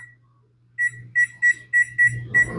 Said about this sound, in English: we want to set our timer